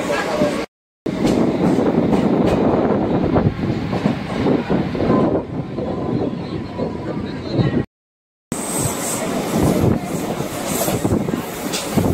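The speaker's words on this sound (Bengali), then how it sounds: "স্টেশন পার করছি লোকাল ট্রেনে, অসম জার্নি হচ্ছে।" Inside a local train running between stations in Maharashtra, a steady loud rumble of wheels and carriage noise with wind buffeting continues throughout, broken by two brief silent gaps.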